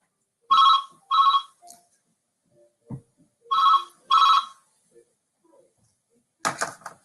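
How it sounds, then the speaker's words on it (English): A real telephone rings in a lecture hall, two paired double rings with silence between them, loud and clear, followed by a short burst of noise. "So was that a real phone ringing?"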